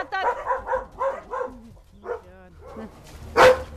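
Several dogs barking in a quick series of sharp, close barks, followed by a pause, a few yips and whimpers, then one loud final bark, with a person talking softly among them.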